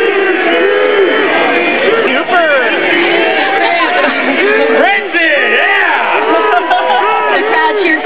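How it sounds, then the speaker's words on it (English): A large crowd roars and cheers at a Diablo 3 launch event, a dense, loud, continuous wash of voices with whoops and shouts rising throughout, no pauses. "The crowd cheered for Pete"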